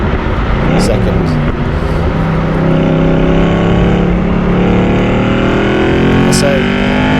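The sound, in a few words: Aston Martin V8 Vantage engine braking and downshifting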